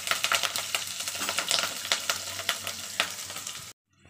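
Chopped green chilies and cumin seeds frying in hot leftover oil, a dense, close, steady crackling sizzle with rapid spattering pops that cuts off abruptly near the end, no talking.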